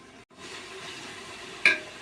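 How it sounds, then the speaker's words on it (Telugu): Masala spices fry for pulao with a steady, soft sizzle in a pan, close up, with a brief louder stir or clink near the end. "పులావ్లో మసాలా బాగా ఫ్రై చేసుకోవాలి"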